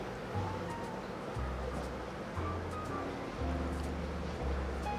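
Strong water movement churns in a fish room aquarium fed by sump outputs, a steady close rushing and splashing wash with faint low pump hum underneath and no talk.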